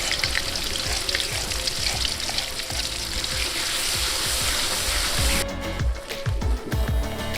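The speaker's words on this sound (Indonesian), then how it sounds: "Waktunya menggoreng bumbu." Ground spice paste frying in a pan, a steady, dense sizzle that runs throughout at close range with faint stirring and no talk.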